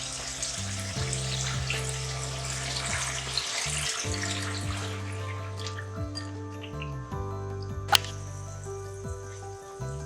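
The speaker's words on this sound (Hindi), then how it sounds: "अब हम पानी की शोरबा देंगे, पानी ऐड करके" Water pours steadily into a pressure cooker for aloo gosht with a bright splashing hiss, over sustained background tones and a single sharp clink near the end.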